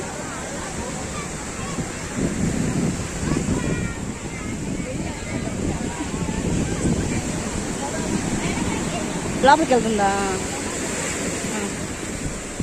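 Surf rolls steadily at a fishing harbour at Chirala, a broad washing roar running throughout while people talk over it and a voice rises briefly near the end.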